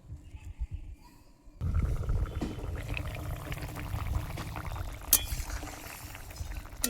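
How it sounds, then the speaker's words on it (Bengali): Fish curry with potatoes and kohlrabi bubbling in a pot, a steady low simmering and gurgling that starts abruptly after a quiet opening, with occasional soft clinks, close and moderately loud. "ঝোলটা ফুটে গেছে, আলুগুলো মনে হচ্ছে সিদ্ধ হয়ে গেছে।"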